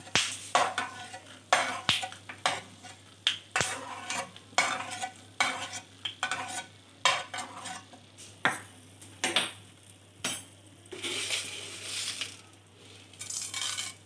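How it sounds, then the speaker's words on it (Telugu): Peanuts fry in hot oil in a pan for pulihora, with a steady sizzle under repeated sharp scrapes and clinks of a spoon stirring against the metal, fairly quiet and close. "వేరుశనగ పప్పులు వేస్తే బాగోవు, అందుకని వీటిని స్పెషల్గా వేయించుకొని పక్కకు తీసుకుంటున్నాను."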